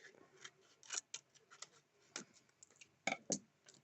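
Scissors snipping sticker paper for a 3D sticker scene, a quiet close series of irregular crisp clicks and snips at a brisk, uneven pace.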